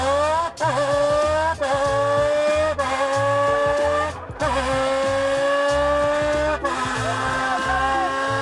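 A loud, continuous roaring imitation of a rally car on a circuit, made with a beer can, pitch rising and dropping with gear-shift-like breaks and crackles, made without spoken words.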